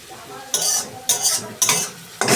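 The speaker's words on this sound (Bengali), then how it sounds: "পেঁয়াজ রসুন সবই লাল লাল করে ভাজা হয়ে গেছে" Onion and garlic frying in a pan and stirred in four distinct bursts of scraping and sizzling, close and loud, each roughly half a second apart, with no talking.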